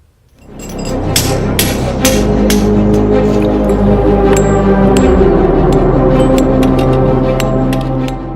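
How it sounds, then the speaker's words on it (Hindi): Villagers hammer apart their own house along a flood-eroded riverbank in Purnia, Bihar, giving loud, close, rapid metallic blows and crashing debris over a dense, continuous din. "मजबूरी में लोगों को खुद अपने बनाए आशियाने पर हथौड़ा चलाना पड़ रहा है।"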